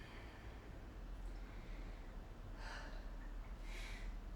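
Two audible breaths, each a soft airy rush lasting under half a second, taken during a yoga hip flow with the second slightly longer, over a quiet steady room hiss.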